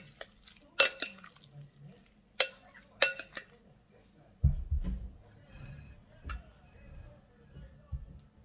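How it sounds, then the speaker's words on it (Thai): A spoon scoops spicy salmon salad with toasted rice onto a plate, giving sharp clinks of utensil against dish and soft, wet scraping between them, close and fairly quiet, with someone speaking. "เดี๋ยวเรามาตักใส่จานกันนะคะ"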